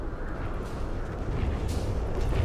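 Shrapnel ability firing in Dota 2, a burst of muffled booming impacts with crackling debris that grows denser and louder toward the end, heard alone at moderate distance.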